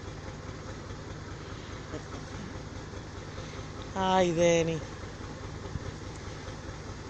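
A tractor works a farm field, its low engine rumble droning steadily in the background while a voice briefly calls out and a short louder tonal sound rises midway.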